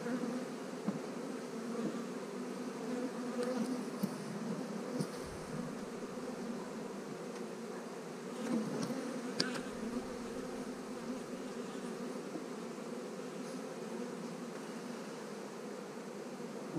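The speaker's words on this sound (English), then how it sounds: "This is a huge swarm, that's for sure." A huge swarm of honey bees buzzes steadily all around, a dense continuous drone with a few individual bees flying close past, and no talking.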